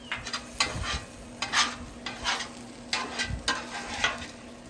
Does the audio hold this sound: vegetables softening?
yes